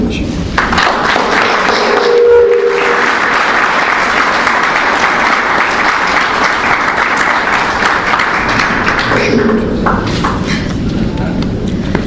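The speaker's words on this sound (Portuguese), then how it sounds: "Uma salva de palmas." Audience applause fills a Portuguese debate venue, a dense, steady clapping from a crowd that holds at full strength throughout, with a brief voice heard near the start and the clapping thinning slightly toward the end.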